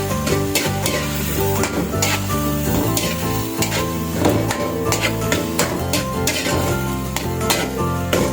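Seasoned pechay sizzles steadily in a hot pan for a Filipino ginisang pechay with oyster sauce, with continuous frying crackle and repeated scraping and stirring taps from a utensil throughout, close and loud with no talking.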